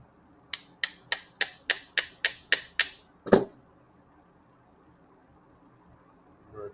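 Light metal hammer taps on a pressure washer part fitted with a red gasket: eight quick, evenly spaced ticks followed by one heavier knock, then quiet.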